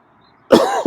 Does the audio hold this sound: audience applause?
no